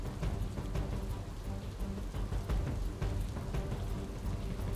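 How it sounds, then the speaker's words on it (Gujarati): Heavy monsoon rain pours steadily over Surat city, Gujarat, with a constant dense hiss and a low rumbling undertone, fairly soft and distant. "બીજી તરફ ભારે વરસાદ વરસી રહ્યો છે।"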